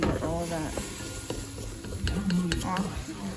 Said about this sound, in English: That water now allows me to scrape the sides and get all of that